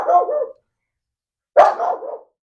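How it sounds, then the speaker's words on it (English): A dog barks from nearby, two short bursts of barking separated by a brief silence, loud and clear with nothing else audible. "a little bit of dog barking"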